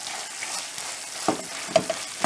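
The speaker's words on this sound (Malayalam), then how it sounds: "എന്തെങ്കിലും കട്ടൊക്കെ ഉണ്ടെങ്കിൽ ജസ്റ്റ് ഇതുകൊണ്ട് തന്നെ ഒന്ന് ഉടച്ചു കൊടുക്കുക" A utensil mashes lumps in thick black halwa cooking with ghee in a pressure cooker, producing a steady close sizzle broken by a few soft scraping knocks near the end.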